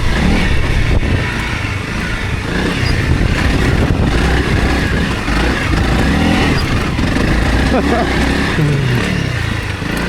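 A 300 Rally dirt bike rides hard off-road, its engine roaring loud and continuous with rising and falling revs close by, and a rider's excited voice breaks in at moments.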